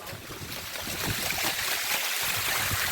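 Rushing water from a waterfall in the Girnar hills near Junagadh, a steady broadband roar with gusty wind, close and fairly loud throughout, no voices.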